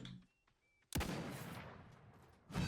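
A sniper rifle shot in a free battle royale video game, fired once as a sharp loud crack after a near-silent pause, then a long decaying echo, with a second burst starting at the very end.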